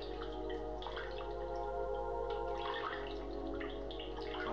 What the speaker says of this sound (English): I don't know how I feel about this water sound.